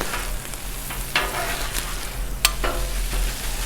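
Sausage sizzling steadily on a Blackstone flat-top griddle, a continuous frying hiss with a few sharper spatters and scraping stirs, close and alone without talk.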